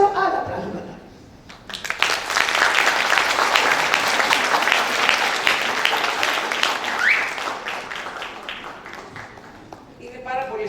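Audience at a school graduation ceremony in Rhodes breaks into loud, sustained clapping that fills most of the clip. A voice speaks briefly at the start and again as the applause fades.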